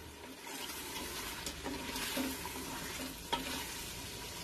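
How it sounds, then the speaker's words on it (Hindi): Pieces of bottle gourd fry and get stirred in hot masala for a chicken dish, a steady sizzle with scraping stir strokes and a couple of sharper clinks, fairly close and without talk. "अब हम इसे मसाले में 2 से 3 मिनट तक भून लेंगे"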